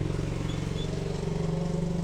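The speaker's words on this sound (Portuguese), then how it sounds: "Deixa passar uma moto." A motorcycle passes on a rural road, its engine a steady buzzing drone that rises in pitch and grows slightly stronger toward the end, moderately close with no talk over it.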